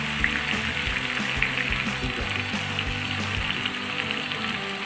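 Soy sauce hitting a hot pan while cooking chicken adobo, a steady loud sizzle and hiss of frying with faint clinks, going on without any talk.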